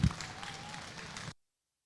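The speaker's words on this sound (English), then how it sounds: "One big round of applause." A crowd gives a round of applause at a rodeo heifer show at Rodeo Austin 2026. The dense clapping lasts just over a second, then stops abruptly into silence.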